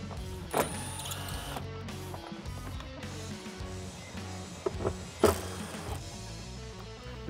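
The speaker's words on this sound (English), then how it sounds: "now using a T25 Torx bit, we're going to be removing these two bolts that actually hold our little tie downs" A driver with a T25 Torx bit whirs in short electric bursts while removing tie-down bolts inside a Jeep Wrangler, with clicks and clunks of the bit and metal parts nearby.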